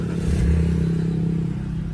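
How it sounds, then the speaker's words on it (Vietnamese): A 2005 German-import BMW 325i engine idles smoothly and evenly nearby, with a steady low hum and no revving. "Sẽ nổ máy cho các bác xem."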